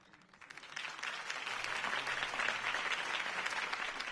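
Crowd applause in a video game swells up after a quiet start and holds steady, dense clapping filling the space for several seconds.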